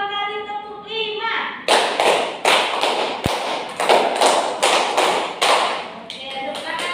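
A classroom group claps in a counted pattern, a run of sharp, evenly spaced hand claps following a short stretch of voices, with one louder thump in the middle.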